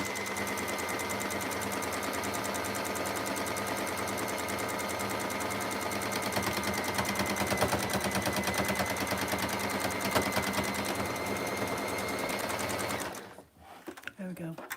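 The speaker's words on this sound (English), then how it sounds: "My sewing machine doesn't like going through the wadding." Home sewing machine stitching through thick quilt wadding, a steady fast mechanical whirr and needle chatter running continuously for about thirteen seconds before cutting off abruptly into quiet.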